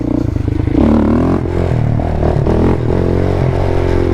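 A quad ATV engine revs hard and close as it accelerates for a second-gear wheelie, a loud, continuous rasping roar that climbs in pitch and holds steady without any voices.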